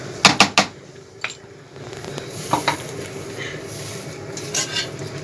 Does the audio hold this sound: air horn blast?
no